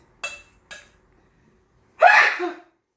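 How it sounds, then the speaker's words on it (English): Two short sharp sniffs or catches of breath, a pause, then one loud close sneeze bursting out abruptly. "I think I got to sneeze"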